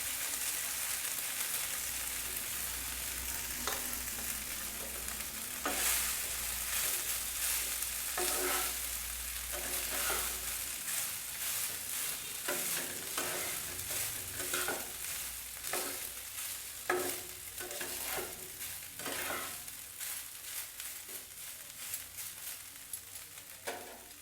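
Rice tossed and stirred in a hot pan for pea rice, a steady frying sizzle broken by repeated scraping strokes of a spatula, close and moderately loud, with no voices.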